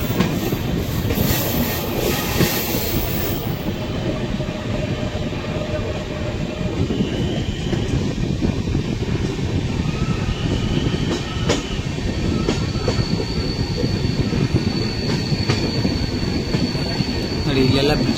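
A train on the Braganza Ghat line near Dudhsagar Falls rumbles steadily with wheels clattering and squealing on the rails, loud and continuous from onboard throughout.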